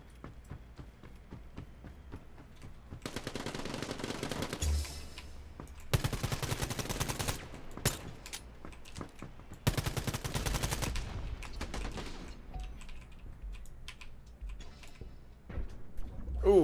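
Bursts of gunfire from the video game Quantum League, several loud volleys in sequence with quieter game sounds between them and no one talking over the shots.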